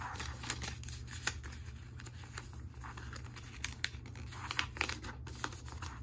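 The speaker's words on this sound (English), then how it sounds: "we're going to fold the corners up to the top," Paper being folded into a dove, steady soft crinkling and creasing with occasional sharper crackles, close and quiet over a low background hum.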